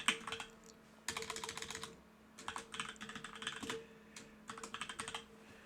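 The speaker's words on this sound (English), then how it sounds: "I type in my inspection name." Quick bursts of typing on a computer keyboard, close and soft, with clustered key clicks separated by short pauses.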